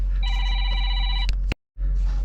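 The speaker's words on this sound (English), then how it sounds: "Okay, got interrupted by the phone." Telephone ringing with a bright electronic warbling tone in short repeated bursts, loud and close, cut off abruptly by a brief silence before room noise returns.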